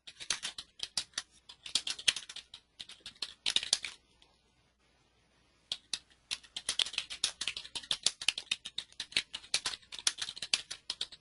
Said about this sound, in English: I'll just type in something.